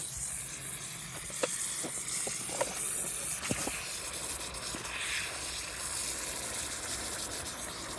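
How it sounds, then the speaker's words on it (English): A small leak in a garden hose, water hissing steadily at a fairly low level, with a few faint clicks and knocks scattered through the first half. "I got a little leak on my hose"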